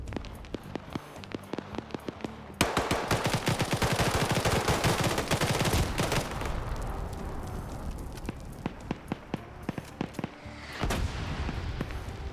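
Rapid bursts of automatic gunfire and single shots in a shooter video game firefight, loud and sustained through the middle, with scattered isolated shots before and after.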